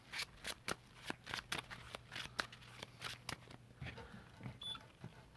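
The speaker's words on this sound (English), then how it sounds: "We'll shuffle our deck." A Yu-Gi-Oh card deck is shuffled by hand up close, a rapid series of crisp riffling snaps and slaps over about four seconds, followed by softer handling.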